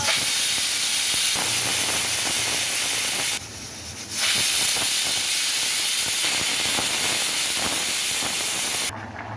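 A pressure cooker whistle vents steam while goat intestine curry cooks, a loud, close, continuous hiss that briefly dips partway through before resuming strongly.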